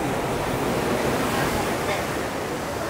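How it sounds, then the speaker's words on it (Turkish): Ocean surf crashing below a temple on the coast at Matara, Sri Lanka, as a loud, continuous roar of breaking waves mixed with wind noise on the microphone. "Deniz nasıl dalgalı ya? Şu dalgaya bakar mısınız abi?"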